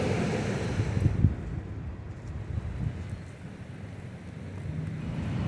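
Ocean surf at Old Orchard Beach, Maine, rolls in as a steady, rushing wash, with gusty wind buffeting the microphone and a slightly louder surge early on.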